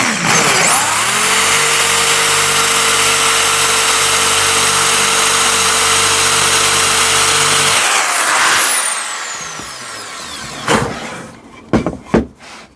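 A power drill bores a hole through a clock piece, its steady motor whine running loud and close for several seconds before winding down, followed by a few sharp knocks and clatters.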